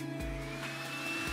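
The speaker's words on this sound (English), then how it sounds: "I'm going to turn on the blow dryer on low" A blow dryer set to low runs as a steady, even whir with a tonal hum, fairly faint and continuous, with no voices over it.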